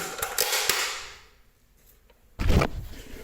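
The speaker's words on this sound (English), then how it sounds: "Now, if I lock my shotgun back and I put in an empty magazine," Shotgun bolt locked back and an empty magazine inserted, two sharp metallic clacks separated by a quiet pause, close and loud.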